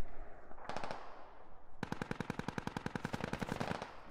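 Automatic gunfire in Squad, a military shooter game: a short burst, a pause, then a long, fast, evenly spaced stream of loud, sharp shots close by, with no voices over it.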